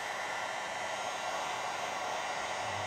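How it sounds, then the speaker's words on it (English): A heat gun gives a steady, hissing whoosh of blown air throughout without a break, like a small motor fan pushing air, moderately loud and constant. "my heat gun is cooling in the background, so if you hear the noise, that's what it is"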